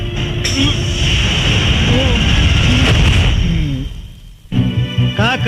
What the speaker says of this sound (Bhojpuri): पुलिस वाले पर गोली चलाता है